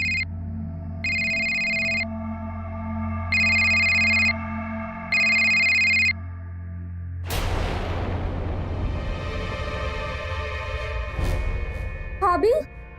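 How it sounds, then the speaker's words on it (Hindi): An electronic telephone rings in three evenly spaced bursts over steady background music, then a loud crash and swelling dramatic music follow; a voice briefly sounds near the end. "कहीं से फोन की घंटी।"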